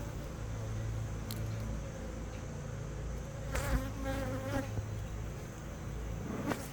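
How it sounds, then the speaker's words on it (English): Honeybees buzzing steadily around an open hive during a late-summer inspection, a continuous close insect drone with brief louder passes near the microphone. "Because we don't want to hurt the bees."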